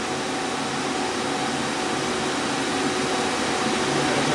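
A lathe spindle turning 2 1/4 inch bar stock runs with a steady, loud, even mechanical whir and hum, with no change in pitch and no talking.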